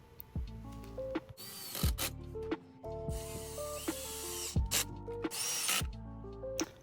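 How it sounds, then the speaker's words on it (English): A hand ratchet clicks in quick bursts while tightening hose clamps on a K&N intake tube in a Toyota Tacoma TRD Pro engine bay, repeated short runs of close, crisp clicking separated by pauses. "we just have to tighten the hose clamps"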